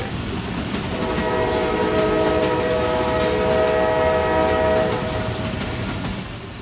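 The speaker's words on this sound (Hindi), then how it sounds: "इस कर्व ट्रैक पर फराटे भरती हुई ट्रेन किसी बल खाती हुई नागन की मानिंद लग रही थी।" A train running fast on a curved track, with loud rolling rail noise and a sustained multi-tone horn blast swelling through the middle before fading, no voices.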